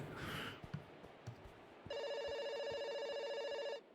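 A telephone rings in the video game Kentucky Route Zero, a steady electronic trill lasting about two seconds over a quiet low background, preceded by soft rustling and a brief airy hiss.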